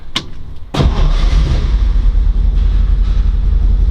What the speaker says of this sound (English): We're gonna go ahead and fire it up here for you.